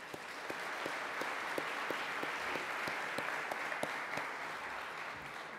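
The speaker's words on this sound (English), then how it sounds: "Let's all give Tung Bui a round of applause." Conference audience applauding a professor, steady sustained clapping from a large crowd throughout with no talk over it.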